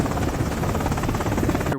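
A helicopter in an action film gives off a steady, loud, pulsing rotor drone that holds close and even throughout, with no talk.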